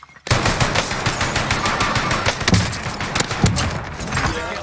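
An XM4 rifle in Warzone empties a full magazine in one long, close, rapid-fire burst that starts abruptly after a moment of quiet and holds steady for several seconds.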